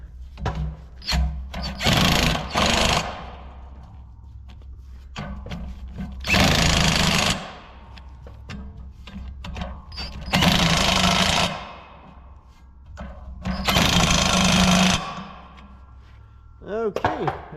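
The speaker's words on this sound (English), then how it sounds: "got the bolts all in. Ready for the impact." An impact wrench tightens bolts on a row unit of a John Deere 7000 corn planter. Four loud, close bursts of hammering whirr, each lasting about a second or two, are separated by quieter pauses.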